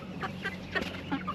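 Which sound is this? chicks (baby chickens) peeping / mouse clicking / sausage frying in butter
chicks (baby chickens) peeping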